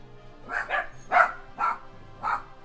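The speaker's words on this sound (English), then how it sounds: "my dogs are apparently barking" Several dogs barking in a room, five distinct bark bursts spaced about half a second apart, moderately loud and close, with no talking over them.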